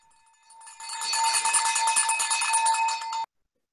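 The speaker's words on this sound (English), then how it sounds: "Barry Nelson is ringing the bell for President Tammy" A handbell rings rapidly and continuously at a Rotary club board installation meeting, bright and close for about three seconds before cutting off abruptly.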